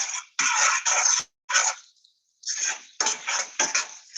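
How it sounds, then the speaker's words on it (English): Pasta being stirred with cheese in a pan, a close, loud run of wet scraping and clattering strokes in several bursts with short pauses between them. "Just keep mixing, stirring as you go."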